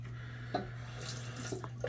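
Steady stream of tap water running into a sink while a shave with a Merkur slant razor, soap and brush is being prepared, a continuous close wash with a few small splashes and no talk.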